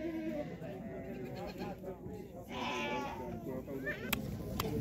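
Sheep and lambs bleating amid a busy livestock market, repeated wavering calls mixed into steady crowd noise, with people talking nearby throughout.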